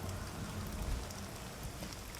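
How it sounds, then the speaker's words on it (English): Steady rain falls in a dramatic night scene from the Marvel series Secret Invasion, a continuous soft wash of drops with low rumbling beneath, no voices. "The lighting and the rain."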